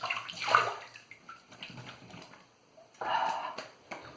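A tap runs as a shaving razor is rinsed, with a close splashing flow in two spells separated by a quieter gap.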